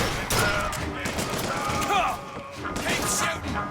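Rapid bursts of gunfire in BioShock Infinite, loud and continuous with sharp cracks and clattering impacts throughout, a voice faintly mixed underneath.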